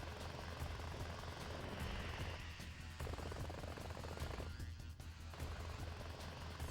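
Helicopters in the video game Front Mission 4, heard as a quiet, steady rotor and engine drone that runs throughout with faint bursts of gunfire-like noise mixed in.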